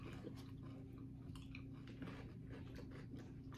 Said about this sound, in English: What is it with these crunchy M&Ms?